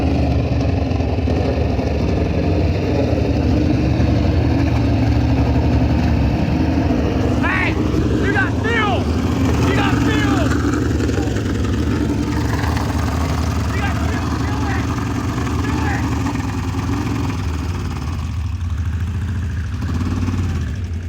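A race dump truck engine runs steadily, a loud, close, continuous rumble and drone with no pauses throughout, with a few brief higher chirping or squealing sounds over the top partway through.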